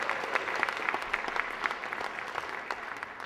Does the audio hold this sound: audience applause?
yes